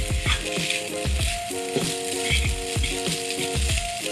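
Noodles being stirred in a pan make repeated close rattling scrapes at a brisk, uneven rhythm over a constant frying hiss, with some ringing metallic tones from the pan.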